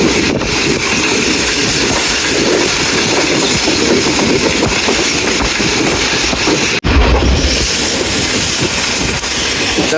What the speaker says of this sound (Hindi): घुंगरीला से पास थ्रू हो रही है हमारी ट्रेन 40 टाउन जाफर एक्सप्रेस